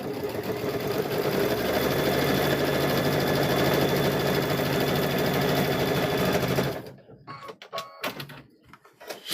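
A sewing machine runs loud and close, stitching fabric for a quilt square with a continuous fast whirring hum for about seven seconds, then stops, leaving scattered handling clicks and rustles.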